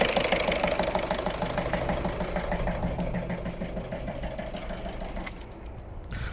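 A Volkswagen Golf 1.6 diesel engine idles close by with a steady knocking chug and a rhythmic low rattle, loud and continuous throughout.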